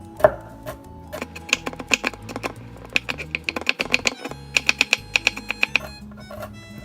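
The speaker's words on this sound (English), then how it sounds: "Just the carrot. We are going to cut it into small pieces" Knife chopping a carrot into small pieces on a cutting board, crisp close taps in quick uneven runs with short pauses, loud and clear with no talking.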